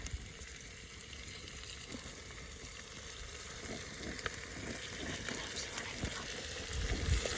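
Onions fried golden brown in a pan with chopped tomatoes for biryani, a soft continuous sizzle with occasional stirring scrapes, faint and close, no talking.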